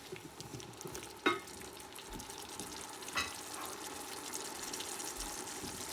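Onions frying in spiced oil for a hot fish curry, a soft continuous sizzle with two sharp utensil knocks and light stirring, fairly quiet and close, with no talking.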